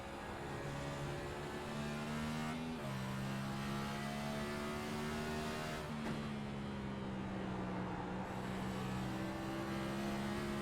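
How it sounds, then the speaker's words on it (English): A race car engine drones steadily at Road America in a racing video game, its pitch dipping and climbing through several gear changes as the throttle is worked. The sound is continuous, loud and close, with no talking. "You hear the throttle control going on for it as well."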